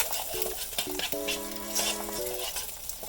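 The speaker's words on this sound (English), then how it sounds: "Let's stir that up." A spoon stirs pineapple salsa with lime juice in a bowl, making soft wet churning and clinking close by, with faint tonal sounds from the background.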